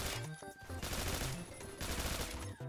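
Rapid, overlapping bursts of automatic gunfire in the Phantom Forces shooter game crackle almost without pause at close to mid range, loud and dense from start to finish.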